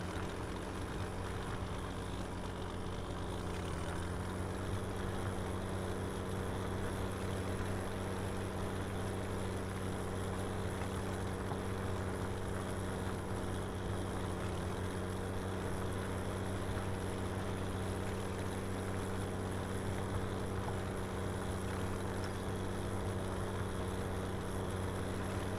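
A steady, unbroken engine drone from a 170-horsepower tractor in a farming video game on the Hof Bergmann map, holding an even, close hum for the whole stretch with no talk over it.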